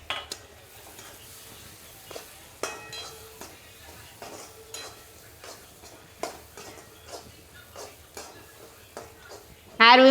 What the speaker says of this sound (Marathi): आता त्याच्यात टाकते टमाटा. टमॅटोला पण छान परतून घ्यायचा.